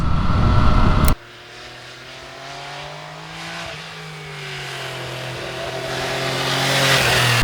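An MV Agusta Brutale 800 RR motorcycle engine roars hard, then cuts off abruptly and drops to a lower drone that slowly builds again as revs rise, with no voices.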